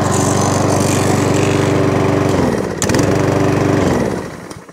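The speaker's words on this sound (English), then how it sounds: "That's a tight little mower. That is 2016 Mountfield, now all up and running." A 2016 Mountfield 464 lawn mower engine runs close by with a loud, steady putter, dips briefly in speed partway through, then picks up again before winding down at the end.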